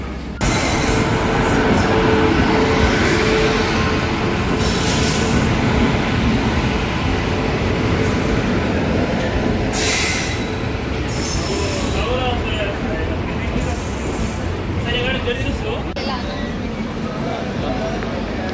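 Steady loud rumble of a train at a station, with clattering and brief squeals over a continuous low roar, people talking faintly underneath.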